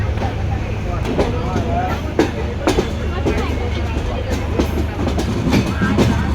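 A steady low rumble of a moving train to Khulna, Bangladesh, with rhythmic clicking from the wheels, while people talk over the constant noise.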